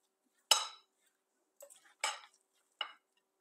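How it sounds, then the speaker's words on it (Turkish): Utensil scraping and clinking in a bowl while white flour is stirred into a soft dough, three or four short separate bursts with quiet gaps between, close and alone. "1 su bardağı kadar da 200 mililitrelik un ilave ediyoruz, beyaz un. Güzelce karıştırıyoruz. Yumuşak bir hamur elde edeceğiz."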